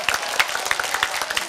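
A studio audience on a TV singing show claps steadily, a dense, fairly near patter of many hands with no pause.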